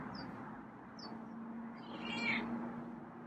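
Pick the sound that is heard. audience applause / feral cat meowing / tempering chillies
feral cat meowing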